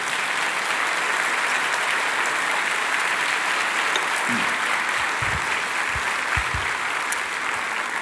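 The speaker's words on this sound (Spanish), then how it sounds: "Fuerte ese aplauso al Dios" Church congregation applauding loudly and steadily, a dense sustained clapping crowd filling the room throughout, with a few faint voices mixed in.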